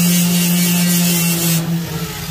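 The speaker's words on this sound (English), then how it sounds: "I need to take my grinder and grind all this stuff down" Angle grinder grinding steel on a hotshot flatbed trailer toolbox to fit a chain rack, a loud steady tonal whine with harsh hiss that drops and eases off near the end.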